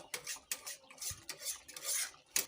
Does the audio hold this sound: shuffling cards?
no